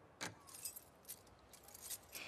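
Keys jangling in The Last of Us 2, with sharp metallic clinks in several short bursts, close and fairly quiet over a low hum, with no talking.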